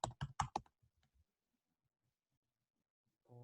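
Keystrokes on a computer keyboard while entering a search query, a quick burst of four or five loud clicks at the start, then a few faint taps and near silence before a brief tone near the end.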